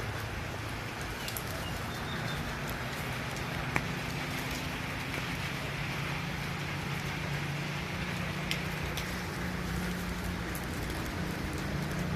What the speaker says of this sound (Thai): ฝนก็ยังตกไม่หยุดนะ